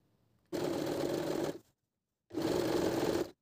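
Two bursts of a sewing machine stitching elastic onto fabric, each about a second long, a fast steady mechanical whir separated by a short silence, with no talking.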